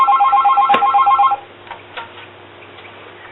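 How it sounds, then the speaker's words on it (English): Field phone ringing a commercial phone through a STU-5M signal terminating unit, a rapid electronic trill in a short burst of repeated chirps, then it stops and faint clicks and room noise follow. "We'll go ahead and we'll ring from the 838 to the commercial phone."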